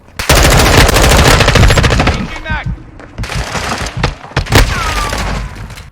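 Loud rapid automatic gunfire from Call of Duty: Modern Warfare II multiplayer, a sustained burst followed by scattered shots, thumps and impacts.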